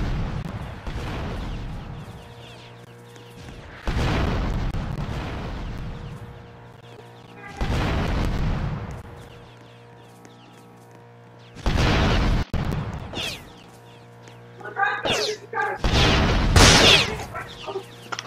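Rocket launcher blasts in the Fortnite video game, a few loud booming bursts with long rumbling tails spaced several seconds apart, followed near the end by sharper, busier crackling impacts.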